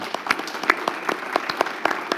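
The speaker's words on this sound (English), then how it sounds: "Let's give her a round of applause" Applause from a small audience at a church event on poverty and public education, with distinct individual claps standing out in a brief, moderately loud round.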